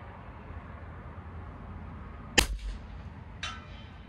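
A single sharp rifle gunshot fired outdoors during a wind drift test, a loud crack followed by a short echoing tail, with a second fainter report about a second later over steady wind noise.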